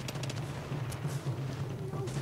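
Muffled gunfire from the video game Tom Clancy's The Division, a faint, low rumbling patter of shots under a steady dull hum, with a few sharper bursts throughout.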